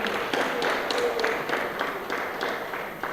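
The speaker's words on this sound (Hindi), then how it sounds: "ताली बजाओ इनके लिए।" Audience clapping in a rhythmic, fairly steady pattern at a live Jain temple gathering during an abhishek and shantidhara ceremony, moderately loud and close, with faint voices beneath.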